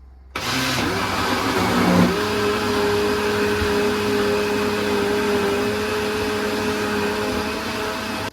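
A blender motor starts abruptly and runs steadily with a loud, constant whirring drone and a high whine, the pitch shifting slightly once before settling.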